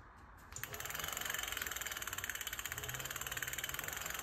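A 1500W 48V hub motor on an upgraded NCM Aspen Plus fat e-bike spins up on a stand under throttle, a steady pulsing electric whine with a fast rhythmic thrum, fairly quiet and close.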